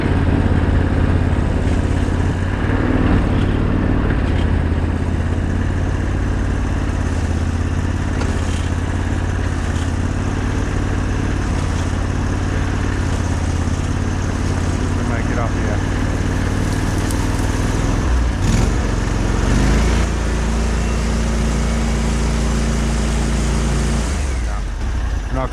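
A boat's inboard engine idles loudly and continuously on a sailboat after its outboard motor failed, a steady low rumble with a brief shift near the end and a voice talking over it.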